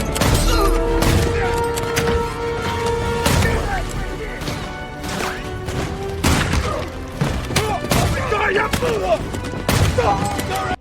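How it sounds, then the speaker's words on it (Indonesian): Repeated gunfire from an action film: sharp, loud shots and booming thumps in bursts over about ten seconds, with shouted voices and music mixed underneath. "melepaskan tembakan demi tembakan menewaskan beberapa pasukan musuh"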